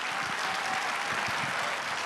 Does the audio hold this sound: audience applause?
yes